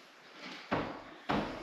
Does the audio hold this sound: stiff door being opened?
yes